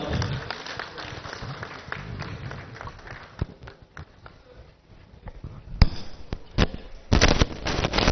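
A crowd at a Kondagattu temple event welcoming Pawan Kalyan with scattered clapping and bursts of noise, uneven and somewhat distant, rising into louder sharp bursts near the end.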